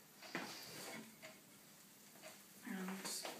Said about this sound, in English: You can hear that starting to sizzle away now.